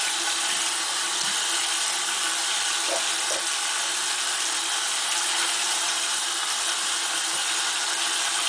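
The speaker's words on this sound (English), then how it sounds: "I would not recommend letting that stuff sit in your sink. Make sure you rinse it down" A kitchen tap runs steadily into a sink to rinse it clean, a constant close hiss of flowing water with a few faint clicks and knocks, no voices.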